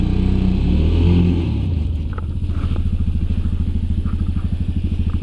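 A Yamaha Grizzly 700 ATV engine labors up a hill in low gear with diff lock engaged, loud and close, revving then settling into a steady pulsing chug.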